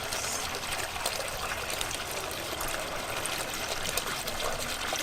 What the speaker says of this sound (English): this outlet is for the pond pump, so we plug its transformer in and away we go